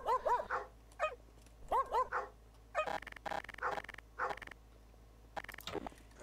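Repeated dog barks and yips in Garry's Mod, coming in short bursts of two or three with brief gaps, fairly close and clear over a low steady hum.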